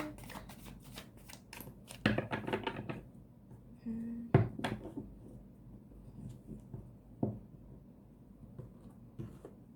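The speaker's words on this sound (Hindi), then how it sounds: "देखो कैसे शफल होते हैं cards, and the last shuffle" A deck of tarot cards being shuffled, with riffling bursts around the second and fourth seconds and softer card handling in between, close and moderately quiet, no talk.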